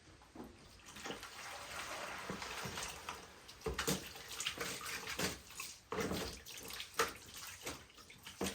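Gold panning in water from a dry creek bed: irregular sloshing, swishing and splashing of water and gravel in a pan, close and fairly quiet, with sharp splash bursts at intervals.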